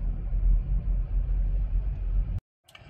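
An MG4 electric car cruising in traffic at 50 km/h, a steady low road rumble inside the cabin that cuts off abruptly near the end.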